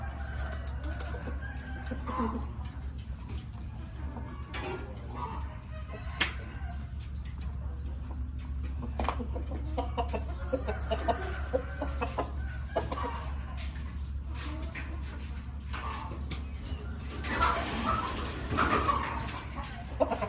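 Chickens cluck steadily throughout at a rooster breeding farm during artificial insemination of young hens, with scattered calls over a constant low hum, growing busier and louder near the end.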